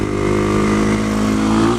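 An SM610 motorcycle engine holds a steady, loud droning note in second gear at about 20 mph during a slow wheelie, close up with faint wind noise.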